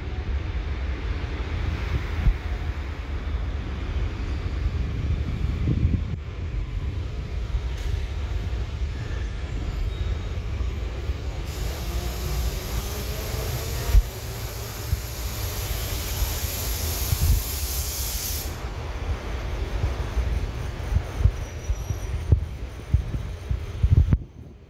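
A CAF S3/M4 GVB metro train approaches through an Amsterdam metro station, a steady low rumble and throbbing hum that builds, with a bright hiss rising for several seconds mid-way, no talking.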